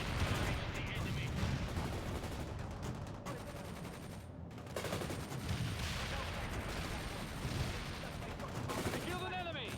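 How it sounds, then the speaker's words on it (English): Dense gunfire and rocket fire in the World in Conflict war game during a river bridge battle, a continuous loud fusillade of rapid shots and blasts with radio voices mixed into the din. "Rocket fire."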